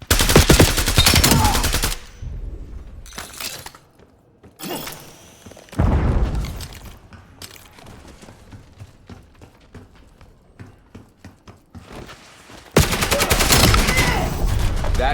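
In Black Ops 7 multiplayer, loud rapid automatic gunfire opens the fight, then come scattered single shots, thumps and footsteps, and heavy automatic bursts return at the end.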